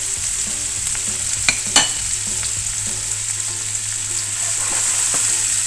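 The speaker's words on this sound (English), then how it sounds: "You really want to sweat down that garlic and sweat down them onions." Garlic and onions sweating in butter and oil in a pan give a steady close sizzle throughout, with a few sharp utensil clacks and stirring scrapes near the start; no one speaks.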